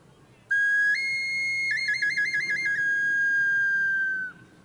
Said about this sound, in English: It has the sound of an ocarina.